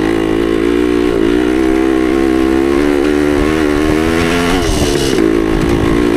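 A 1972 Yamaha DT2 enduro motorcycle accelerates hard through the gears, its two-stroke engine buzzing loud and close with a rising pitch and a brief drop at a shift near the end.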